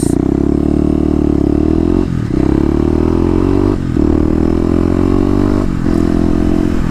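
A Kawasaki KLX250 motorcycle engine runs steadily and close, with three short dips in its throaty drone as the rider shifts or eases off, then pulls again.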